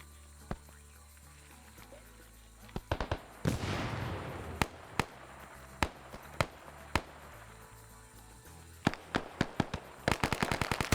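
Gunfire in a Vietnam War PvP video game, with sharp cracks of shots coming singly and in short bursts, a noisy blast-like swell early on and a quick flurry of rapid shots near the end.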